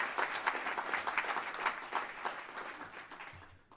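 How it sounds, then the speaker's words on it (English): An audience applauds Karl Rove before his talk on William McKinley's triumph, a steady wash of many hands clapping for nearly four seconds that thins out toward the end. "you can clap there, that's fine"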